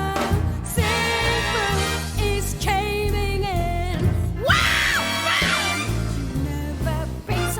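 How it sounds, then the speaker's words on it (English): A voice screams and wails in bursts over a jazzy track, with rising vocal swoops around the middle of the song and steady music beneath. "Oh, she's screaming."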